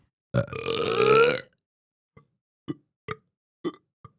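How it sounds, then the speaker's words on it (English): One long, loud, drawn-out burp up close, followed by a few short, quiet clicks and small gulping sounds. "Can you burp on command?"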